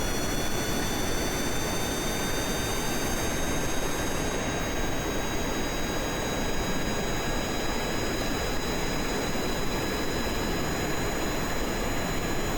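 Jet engines on an aircraft in Kerbal Space Program spool up to a loud, steady roar with a high whine layered on top, continuous and close, with no talk.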